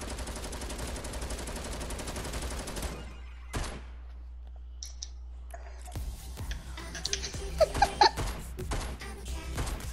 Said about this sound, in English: I hear them shooting up there.